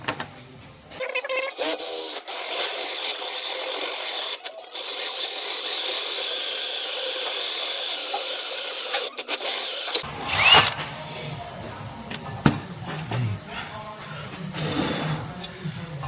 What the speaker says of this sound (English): drill that